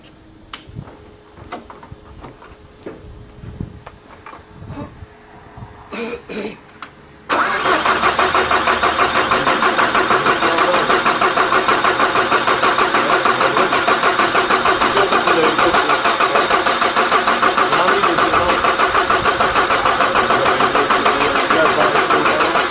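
A Dutch diesel mini tractor puller engine cold-starting: scattered clicks and knocks, then the engine catches and roars into a loud, steady, rough idle that runs on without pause.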